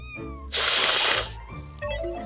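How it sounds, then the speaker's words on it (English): A cat in the game Epic Seven gives a sharp, sustained hiss that lasts about a second, set against harmonic game music. "It's just a cat."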